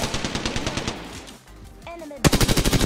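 Rapid automatic gunfire from the shooter game Apex Legends rattles in fast, loud bursts, breaks for a moment while a voice speaks, then returns as another quick string of shots.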